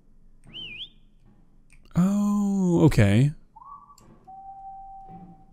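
Whistling echoes aboard an abandoned ghost ship in a video game: a short rising whistle, then a loud wavering tone, and later a long steady whistled note, with a player briefly talking in between.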